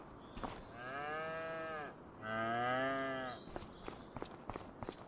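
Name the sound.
cows mooing in Farming Simulator 25 video game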